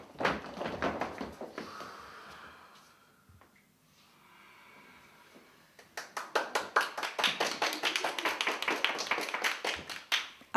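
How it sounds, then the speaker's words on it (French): A small group in a relaxation circle breaks into applause after quiet, rapid bursts of clapping building from near, preceded by a few brief claps and a hushed pause. "Applaudissements, ovations."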